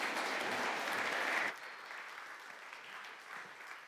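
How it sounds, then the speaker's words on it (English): Conference audience at a 5G and broadband event applauding a speaker, a dense burst of many hands that drops abruptly to softer scattered clapping and room noise. "Applause for you."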